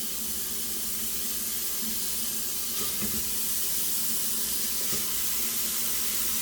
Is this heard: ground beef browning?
yes